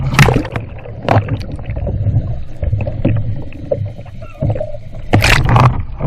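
A kayak rolls over in water, giving heavy splashes and sloshing bursts at the start and again near the end, with gurgling, bubbling water and wind buffeting the microphone in between.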